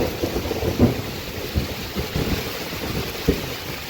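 Heavy rain pours steadily during a thunderstorm, a dense close wash of noise with low rumbles and a few sharper thumps rising through it. No voices are heard.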